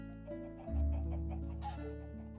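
Chickens in the farming video game Feed The World: short clucks over steady, sustained humming tones, heard close, with no speech.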